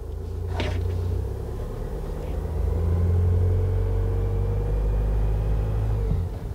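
An Isuzu D-Max or Mazda BT-50 ute pulling away on a test drive with the diff lock engaged, its engine a steady loud low rumble that swells slightly as it gets under way.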